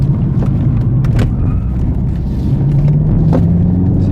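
A BMW 128Ti with 265 hp drones steadily while driving, its engine note rising gradually over a loud, constant rumble of road and tyre noise from inside the cabin.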